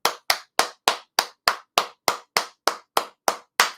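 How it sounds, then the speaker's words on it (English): A single person claps hands thirteen times in a steady, even rhythm, each clap sharp, close and loud with a quick decay, alone with no other sound. "give yourself a hand clap"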